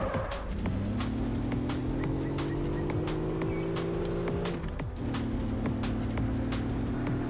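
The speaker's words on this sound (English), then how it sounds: "Let's drift around the corner." A car engine holds a steady rising drone while the tires squeal through a drift around a corner in the Russian Car Driver game. The sound is loud and continuous, with a brief dip before it carries on.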